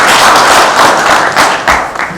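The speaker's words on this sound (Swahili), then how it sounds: "Wacha ni introduce huyu Ketu wa Ruguru, simama pigia makofi." Crowd clapping at a political rally in Kenya, dense continuous applause throughout with a few louder thumps, close and sustained.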